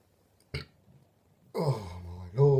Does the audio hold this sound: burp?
yes